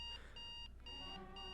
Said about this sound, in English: God, those alarm clocks.